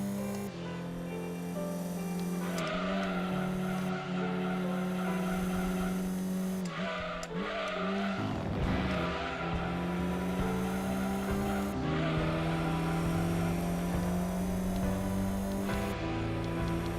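An Alfa 156 race car in Gran Turismo 2 drones steadily through the engine's rev changes and gear shifts as it understeers, with tire squeal and skidding mixed in; the sound is continuous, synthetic and even in loudness.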